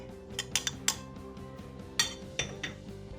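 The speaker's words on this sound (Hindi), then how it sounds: "अब हम इसमें अपना बेसन डाल देंगे।" Gram flour being added to ghee in a pan for besan halwa, with a spoon clinking and tapping against the metal several times in short, sharp hits over a steady low hum, close by and with no talking.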